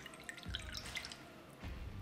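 A paint brush loaded with enamel streaking grime dipped into a glass of water, giving soft close splashy drips and small watery clinks, quiet and brief, with no speech.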